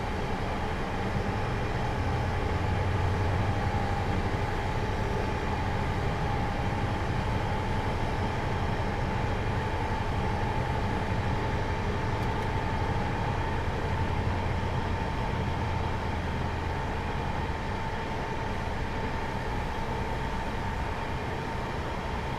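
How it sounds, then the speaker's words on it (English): An HST diesel train in Train Simulator 2017 accelerates with a steady, droning engine roar, a sustained tone riding over a constant rumble of wheels and rail noise. "I'm just going to accelerate us up towards 70, and then I'm going to idle the power and allow the train to coast"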